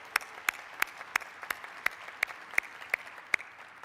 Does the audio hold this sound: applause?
yes